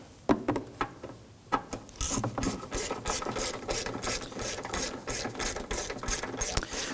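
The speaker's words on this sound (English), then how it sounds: "go ahead and pop our ratchet onto there" A hand ratchet snugging down a bolt on a 2005-2009 Subaru Legacy 2.5L H4 engine during an ignition coil replacement: a few isolated clicks, then a long run of fast, evenly spaced ratcheting clicks, close and crisp with no talk.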